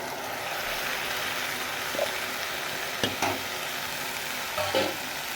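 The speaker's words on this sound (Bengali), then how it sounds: "কাঁচা লঙ্কাটা ভালো করে আমি ডালের সাথে নেড়ে চেড়ে নেবো" Lentils with green chilies stirred in a pan, a soft steady sizzle with a few light scrapes and clinks of a spoon against the pan, close and quiet, no voices.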